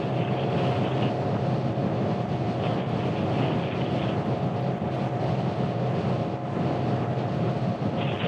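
Steady, loud wind roar and buffeting against the rider on a scooter climbing a hill at about 55 to 60 mph through the Avenue of the Giants, a continuous broadband rush with no speech.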